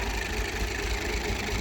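A tractor engine idles close by with a steady, even low rumble and a faint vibrating hum that holds without change throughout. No voices are heard.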